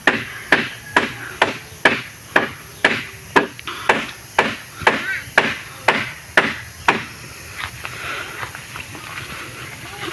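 Hard hammer blows land in a fast, steady rhythm, about a dozen loud close strikes, then fade into lighter, softer knocks toward the end.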